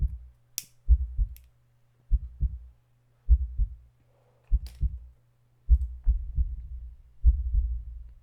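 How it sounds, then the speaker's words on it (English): Heartbeat sound effect in a horror video game, deep low thumps in paired beats repeating at a slow, steady rhythm, close and prominent over a faint low hum. "So let's hear the heartbeat."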